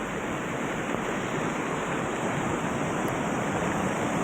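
Water pouring over the overflowing Hanumantkhed dam in heavy rain, a dense, constant roar of rushing water with no breaks, loud and unvarying.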